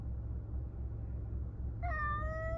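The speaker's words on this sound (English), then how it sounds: "He's been meowing every few seconds like that the whole ride here." A cat meows once near the end, a single loud, drawn-out cry close by over the low steady hum of a car ride.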